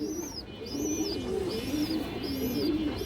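Female high-flyer pigeons coo close by in soft, repeated throaty calls, with faint bird chirps above them and no talk.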